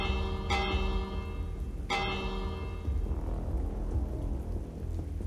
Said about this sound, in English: Dude, it's the 5-minute bell.